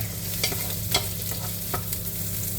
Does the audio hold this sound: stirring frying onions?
yes